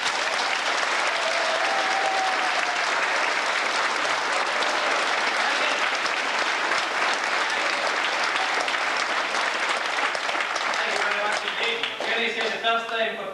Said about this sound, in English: giving applause for the man who presents the programme